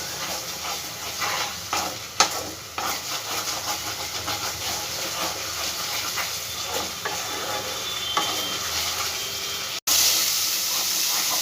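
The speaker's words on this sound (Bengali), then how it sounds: "এবার মশলাগুলো সব একসঙ্গে খুব ভালো করে ভেজে নেব।" Spices fry in hot oil and are stirred steadily for a vegetarian banana-flower curry, a continuous sizzle broken by scraping strokes, close and without talk.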